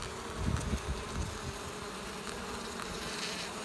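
Dense, muffled buzzing of many bees confined in a bag, steady throughout with a few soft thumps near the start.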